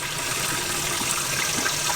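Fresh water gushes steadily into a fishing boat's livewell holding a big tournament-caught fish, a continuous close splashing pour with no voices.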